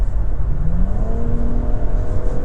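A 2025 Nissan Rogue Platinum's three-cylinder engine accelerates hard at full throttle in eco mode, a steady droning whir with rising tones heard from inside the cabin, loud and continuous without talk.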